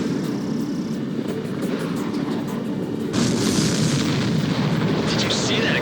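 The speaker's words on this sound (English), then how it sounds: "Explosion? Looks like that's one of them down." Missile explosion in the combat flight game Ace Combat 7 as a supply ship is hit, a sudden loud boom bursting in about halfway over steady jet engine roar and a continuous low rumble.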